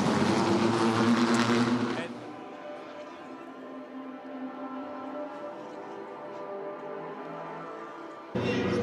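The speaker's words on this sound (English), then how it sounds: "The cars are going to go past us just now." Le Mans race cars roar past close by in a loud burst during the first two seconds, fade to a quieter engine-filled backdrop, then surge loudly again at the very end.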